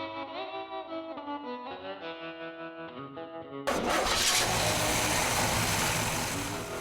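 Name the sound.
classic car's 371 cubic inch Rocket V8 engine starting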